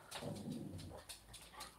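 A dog whimpers faintly indoors in a few soft, short whines, quiet and close with no talk over it.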